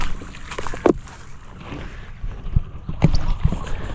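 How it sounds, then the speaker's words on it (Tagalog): A small boat engine chugs at low pitch close by, steady and rumbling, with occasional knocks and wind noise over it. "yan maandar makina natin"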